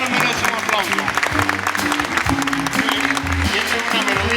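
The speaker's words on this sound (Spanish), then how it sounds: "El amor siempre merece un aplauso." An audience at a live talk applauds, a dense, steady wash of clapping that fills the whole stretch, with a low tonal melody or voice running faintly beneath it.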